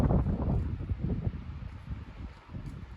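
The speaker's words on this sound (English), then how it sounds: "wind a-blowing, clouds rolling through." Wind blusters steadily across the microphone on a cold 38-degree day, a continuous low rumbling roar with gusty swells, heard outdoors with no talking.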